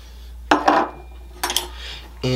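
Blueberries tossed with flour in a mixing bowl for lemon blueberry muffins, giving two short bursts of clinking and scraping against the bowl with a quiet pause between and another clink at the end.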